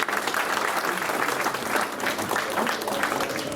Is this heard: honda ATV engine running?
no